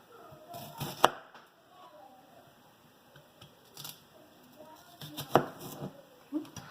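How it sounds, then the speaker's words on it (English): A knife chopping food into very thin slices on a cutting board while making a vegan nacho cheese sauce, giving a few sharp, separated taps that stand out over quiet background noise. "make the tiniest slices you can"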